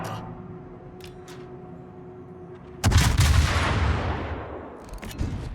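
Naval gun salvo from the Venezia cruiser in World of Warships, a sudden loud booming volley after a low engine hum, rumbling and decaying over a couple of seconds, with a smaller follow-up blast.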